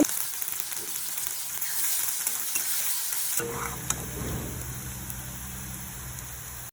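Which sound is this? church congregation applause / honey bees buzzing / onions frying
onions frying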